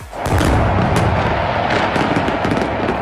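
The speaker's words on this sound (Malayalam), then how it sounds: "ഇരുപത്തിയഞ്ച് മിനിറ്റ് നീണ്ടതായിരുന്നു പുതുവർഷ പിറവിയുടെ വെടിക്കെട്ടും കരിമരുന്ന് പ്രയോഗവും" New Year fireworks over Sharjah in the UAE: a loud, dense, continuous roar of crackling bursts and booms with no pauses and no voices.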